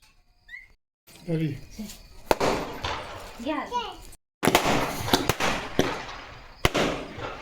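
Firecrackers set off at a Tulsi Vivah ceremony burst in a series of sharp, loud cracks and bangs, close by, with voices and whistling between the blasts.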